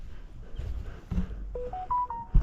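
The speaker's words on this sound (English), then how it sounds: "Why is that phone going so crazy?" A mobile phone sends out a run of short, stepped electronic beeps, each one pitched higher than the last, close and clear over quiet outdoor background in a shade garden at a botanical garden.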